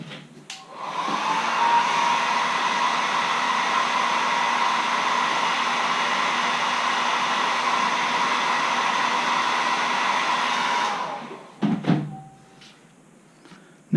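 A hair dryer blows steadily for about eleven seconds, drying paint on a carved wooden caricature letter opener, then cuts off, followed by a couple of light knocks as it is set down.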